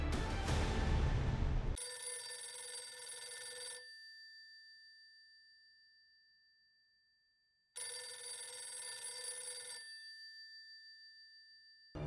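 A telephone rings in two bursts of about two seconds each, separated by a long silence, with the ringing loud and unanswered.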